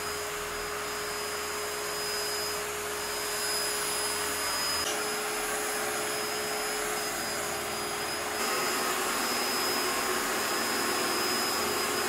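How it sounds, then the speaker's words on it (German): An Ecovacs Deebot X1 e Omni robot vacuum runs with a steady, moderate whirring hum, constant throughout with a slight shift in tone partway through. "Der Ecovacs D-Bot X1 E ist erfreulich leise beim Saugen."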